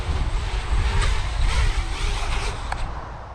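A BrotherHobby Hyperbola 5-inch FPV drone whines as it flies in to land, a steady buzzing propeller drone heard fairly close with slight pitch shifts as it approaches.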